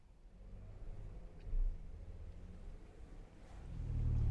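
Ford Bronco driving on the road, heard from inside as a low, muffled engine and road rumble that swells louder toward the end, with no talking.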